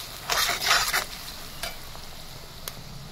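Spices and dried chili powder fry in hot oil for a rustic Assamese meat curry, with a close sizzle and a few bursts of scraping stirring, then a softer steady frying hiss.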